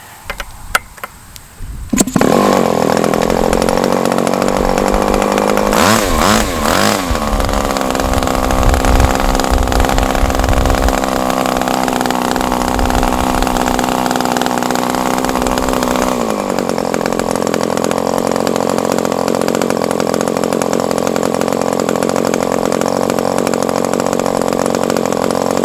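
A small high-revving Super Tigre model airplane engine starts up after a few sputters, then settles into a steady, loud buzzing idle drone that continues without pause.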